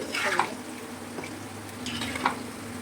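Soya chili pieces frying like pakoras in a pan over a gas flame, a steady sizzle with a couple of stirring scrapes and light clinks.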